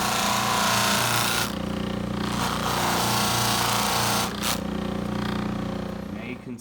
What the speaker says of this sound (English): we're just working it off slowly with the buffing wheel